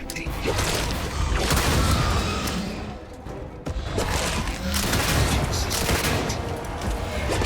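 Heavy gunfire and booming explosions in a Starfield firefight against morphs, dense continuous bursts with thuds throughout and a brief lull near the middle.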